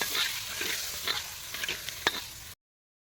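Tamarind water cooking in a wok for chaat chutney, with a soft steady sizzle and a few light utensil scrapes, close and moderately quiet, cutting off abruptly near the end.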